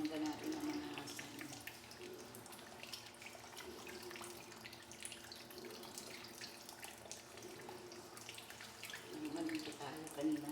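Tap water runs steadily into a sink while fish, including milkfish, are rinsed, with faint splashing and a voice talking quietly in the background.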